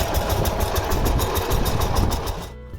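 Tractor engine running steadily, a dense low rumble with rattling mid tones at close range, cutting off abruptly near the end; no talking.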